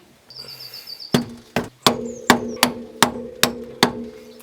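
A new wheel bearing is tapped into a BMW E36 front hub with a hammer: eight sharp metallic strikes in a steady, slightly quickening rhythm, close and ringing, with faint background bird chirps and no talk.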